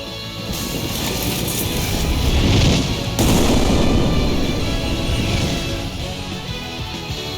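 Gunfire in the Star Ocean: The Divine Force action game, dense continuous shooting and blasts layered with game music, loud and sustained with a sharp burst partway through.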